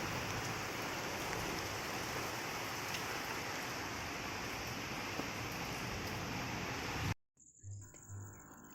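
Heavy rain pouring down outdoors, a dense, loud, unbroken hiss of drops on surfaces that cuts off abruptly near the end.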